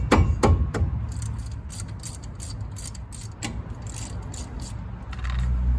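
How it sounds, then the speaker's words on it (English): A ratchet clicks in quick, uneven bursts while loosening the brake caliper bolts on a car, close by, with a metallic clatter of tools and a few sharper knocks between the runs of clicks. "Go ahead and loosen this caliper up."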